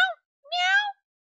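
A cat in the horror video game Amnesia Later x Crowd gives two clear meows, a short one and then a longer drawn-out one, close and loud against silence.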